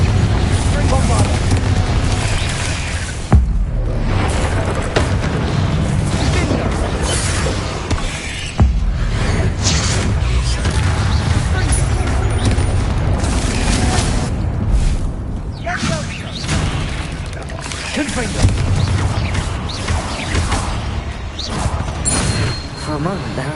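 Repeated Confringo and Bombarda spell blasts in Hogwarts Legacy, a string of loud booming, crashing explosions with shattering debris in quick succession, heavy and close.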